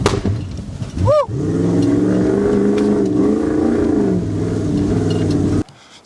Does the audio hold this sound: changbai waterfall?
no